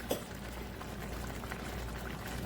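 Turkey gravy simmers in a pot on a stovetop, giving a soft, steady bubbling hiss that stays low and even throughout, with one brief clink near the start.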